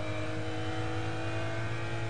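McLaren F1 GTR race car at Le Mans accelerating hard through the gears, a loud, steady, close engine roar with dense harmonics and no voices.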